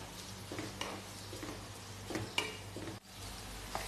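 Egg kabab mixture with salt being stirred and sautéed in oil: a soft, steady sizzle under repeated rhythmic scraping strokes of a spatula, fairly quiet and close.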